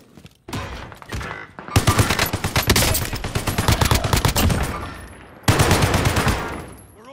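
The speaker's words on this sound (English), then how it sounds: "Someone just took a shot at me." Rapid bursts of automatic gunfire in the Warzone battle royale video game, loud and close, with a brief gap before a final burst; little else audible.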